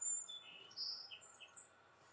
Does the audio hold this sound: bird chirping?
yes